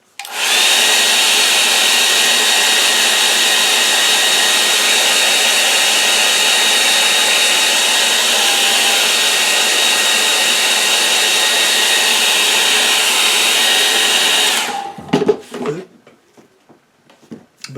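A hair dryer blows steadily and loudly at close range to dry a wet acrylic painting, running for about fifteen seconds before it cuts off, followed by a few knocks and clatters.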